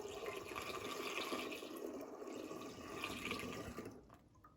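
Grape juice poured through a funnel into a jug for homemade wine, a steady liquid pouring and splashing stream that continues evenly for about four seconds, then tapers off near the end, close up with no talking.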